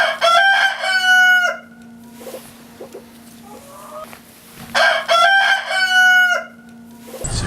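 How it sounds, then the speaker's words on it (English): A rooster crows twice, loud and close, with a long gap between the calls, at a farm sanctuary for rescued chickens; a low steady hum runs underneath and a few faint clucks fill the pause. "Now here come some of the rescue chickens."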